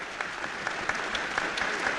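An audience applauds, many hands clapping in a dense, continuous patter of moderate loudness for about two seconds.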